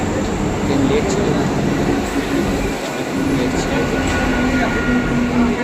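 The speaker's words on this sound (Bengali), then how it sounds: "ব্যারাকপুর স্টেশনে পৌঁছে গেছিলাম, আর ট্রেন ঢুকে গেল" A train pulls into Barrackpore railway station, its steady rumble and rolling wheel noise filling the platform, with crowd chatter and voices mixed in throughout.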